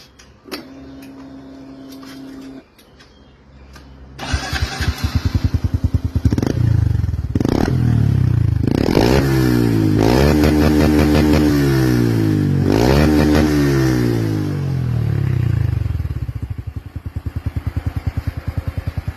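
A motorcycle with a modified exhaust, its baffle cut open, starts up and revs hard several times, the exhaust rising and falling in loud rough bursts before settling to a throaty idle.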